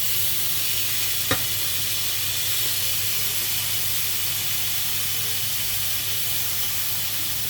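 A croque fromage with potatoes cooking in a hot pan, giving a constant close hissing sizzle with one brief sharp tap early on, and no talking.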